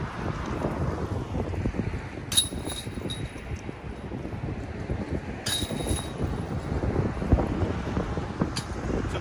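Steady outdoor wind on a 25 mph day of disc golf putting roars and buffets across the microphone throughout, with a couple of brief metallic clinks from the basket chains standing out above it.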